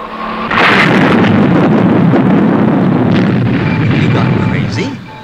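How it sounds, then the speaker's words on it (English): Missiles explode by remote control in the Stingray puppet TV series, a sudden loud roaring blast that rumbles on as a dense, sustained boom for several seconds before fading. "Explode the missiles by remote control."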